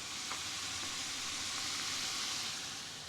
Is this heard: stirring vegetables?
yes